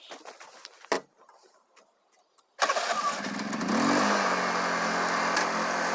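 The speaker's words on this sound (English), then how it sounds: "Let's fire up the generator and find out." A generator engine cranks with a couple of short bursts, then catches at about 2.5 seconds and settles into a steady, loud running roar. Faint handling noises come before it.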